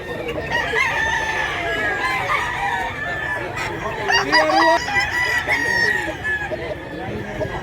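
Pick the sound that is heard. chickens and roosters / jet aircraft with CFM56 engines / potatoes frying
chickens and roosters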